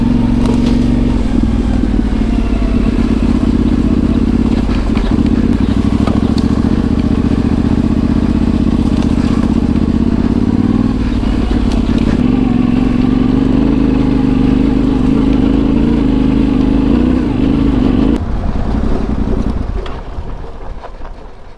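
A motorcycle engine runs loud and close, holding a steady droning rumble with rising and falling revs before easing off near the end.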